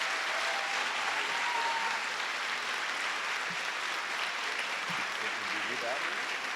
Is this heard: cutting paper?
no